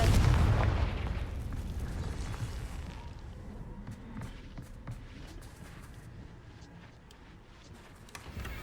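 A Confringo fire spell blast in Hogwarts Legacy booms loudly at the start, then trails off into a long rumbling decay with scattered crackles fading underneath.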